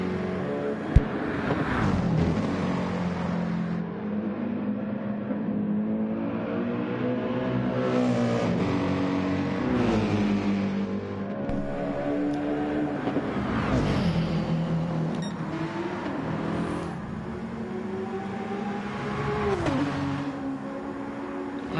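Mercedes GT race car at the Bathurst 12 Hour flat out down the straight, its engine note loud and rising through the gears, pitch sweeping up and shifting as it blasts past.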